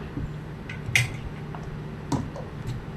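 A spoon stirs spice paste in a mixer grinder jar, making soft scraping with two sharp metallic clinks against the jar and a few lighter taps.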